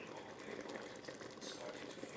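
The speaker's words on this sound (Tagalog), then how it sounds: "Ayan, kumukulo na siya." Pot of vegetables and salmon boiling on the stove, a soft continuous bubbling simmer, faint and close, with no talk over it.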